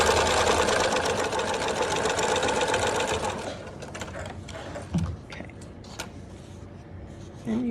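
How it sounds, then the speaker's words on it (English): A sewing machine runs steadily for about three seconds while stitching a French seam in fabric, a close, loud rapid mechanical chatter, then stops, leaving quieter handling clicks and rustles. "So you're gonna sew in 1/2 inch from the edge"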